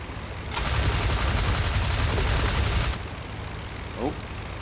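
Aircraft machine guns firing in the Flying Circus flight game: a loud, steady burst of rapid fire lasting a couple of seconds over engine drone, then cutting off.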